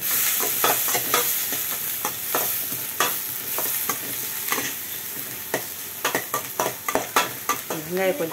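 Onions sautéing in a pan on the stove, with a soft continuous sizzle under repeated sharp scraping and clattering stirring strokes that come quicker toward the end, close and with no speech.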